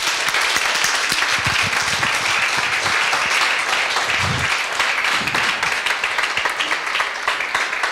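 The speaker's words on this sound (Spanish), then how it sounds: "Aplaudimos a Dios." A church congregation applauds together during a thanksgiving inauguration service, a steady dense wash of clapping that fills the whole stretch with a few louder hand claps standing out near the front.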